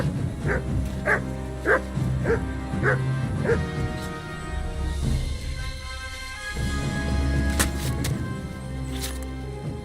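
A dog in the medieval video game Kingdom Come: Deliverance II barks in a quick run of sharp yaps, then whimpers and yips, close and fairly loud amid game sounds while voices talk.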